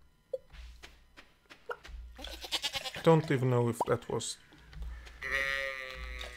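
Goat or sheep bleating in the Stardew Valley farm game, a few short wavering calls over light background music, mixed with someone talking through much of it.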